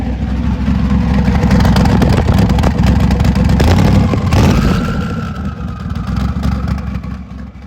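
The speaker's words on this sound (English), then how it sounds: "You might hear a chopping ass V8 in the background." A big V8 engine rumbles close by with a deep, lumpy idle, briefly swelling louder before settling back to its steady loping beat.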